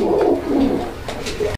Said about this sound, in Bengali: এটা হচ্ছে মূলত ইয়েলো কালারের পারভিন কবুতরের একটা জোড়া